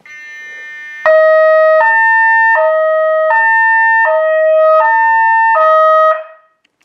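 Homemade outdoor warning speaker array OSA 4001-B blares a loud two-tone siren, alternating pitches in a steady back-and-forth pattern about every second, then cutting off abruptly.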